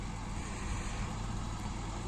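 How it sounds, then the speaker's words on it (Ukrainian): A tractor pulling away across a field at an agricultural field day, its engine a steady, broadband rumble that fills the background without clear changes in level. "Так, щось трактор від нас тікає."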